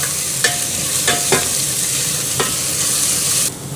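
Chopped onion frying in hot oil in a pan for Myanmar's mohinga: a loud, close, continuous sizzle with a few sharp stirring scrapes, cutting off abruptly near the end.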